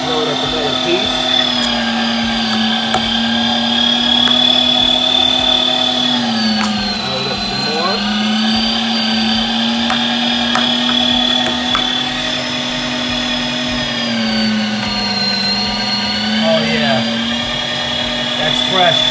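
A Meat Your Maker 500 watt meat grinder churns beef with a steady, loud motor whine and high-pitched hum, slight pitch dips as chunks feed through, continuous for the whole stretch.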